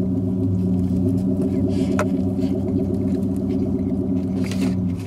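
A loud car rumbles outside with a steady, heavy low drone, heard from inside a vehicle with the windows up, with a few faint knocks over it.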